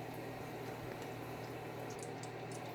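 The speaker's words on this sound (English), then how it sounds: "We're just to start frying this tomato." Continuous sizzling and bubbling from tomatoes frying in a hot pan for an African stew, a dense crackle with a low steady hum beneath.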